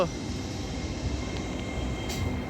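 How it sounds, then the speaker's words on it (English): A Class 802 Paragon train rolls into a station during disruption on the East Coast Main Line at Hitchin, a close, steady rumble with a brief horn-like tone near the end. "Meanwhile, the whole train Paragon coming in."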